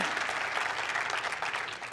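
A church congregation claps together in steady, even applause, close and filling the room.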